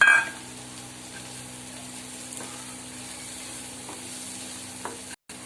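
Fried peanuts go into a pan of rava idli mixture with turmeric. A faint, low sizzle runs under a steady hum, broken by soft stirring taps and a short gap near the end.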